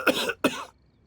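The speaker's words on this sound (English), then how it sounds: "Oh gosh, that cough looks serious." A character in the video game Genshin Impact gives two close, harsh coughs in quick succession, followed by a short near-silent tail.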